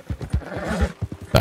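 A horse in the video game Red Dead Redemption 2 gives a rhythmic snorting whinny, loud and close, with pulsing bursts over about a second.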